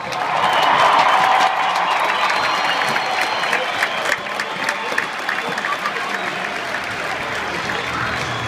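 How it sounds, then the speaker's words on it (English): Sustained applause and scattered cheering from a large crowd at a hockey game honoring service members, loudest at first and then settling into steady clapping that continues throughout. "Ladies and gentlemen, one more round of applause for the outstanding service members before you."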